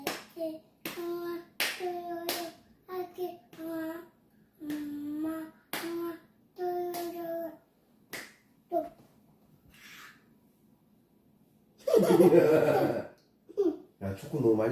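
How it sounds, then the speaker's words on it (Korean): A young child claps hands at home in a playful family moment, a run of sharp claps in the opening seconds mixed with a mother's encouraging speech, children's voices and a burst of laughter or excited chatter near the end. "박수 쳐야지"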